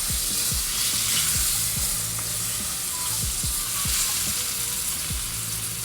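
Steady, loud sizzling of food frying in hot oil, with a hissing wash throughout and occasional low clunks of stirring or utensils.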